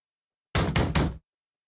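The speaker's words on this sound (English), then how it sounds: "Loud bang on the door can be heard" Three loud, close bangs on a door in quick succession in the Nikke video game, landing as a short burst with no voices.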